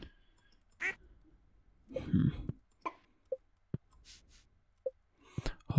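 Ducks in the farming game Stardew Valley give a few scattered, short quacks, faint and spaced apart among small game sounds.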